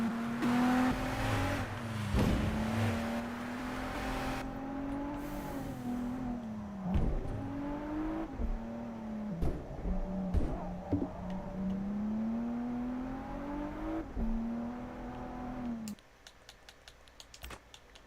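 Nissan Fairlady Z engine in the drift racing game Japanese Drift Master, revving and shifting with rising and falling pitch and sharp gear changes, loud and close, then cutting out near the end.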